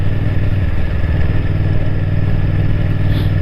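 A motorcycle engine runs steadily and close by, with a constant low, throbbing drone and no break for the whole stretch.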